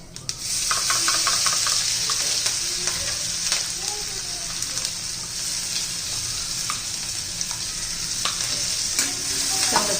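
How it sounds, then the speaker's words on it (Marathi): Cumin and mustard seeds crackle and sizzle in hot oil for vada pav filling, a dense close sizzle with many quick sharp pops throughout and no talk. "छान असं तडतडलेलं आहे जिरं मोहरी"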